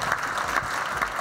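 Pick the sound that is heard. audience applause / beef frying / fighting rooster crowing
audience applause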